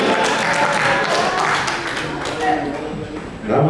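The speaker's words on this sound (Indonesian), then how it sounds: "Tolong tepuk tangan kan." An Indonesian election vote-count meeting in Teluk Bintuni responds with moderate applause, sustained clapping from the room that swells again near the end, with voices mixed in.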